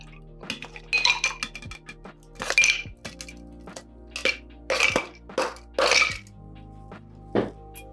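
Ice added to a glass for an eggnog cocktail makes a series of sharp, close clinks and rattles, several separate bursts spread across the stretch with quiet gaps between.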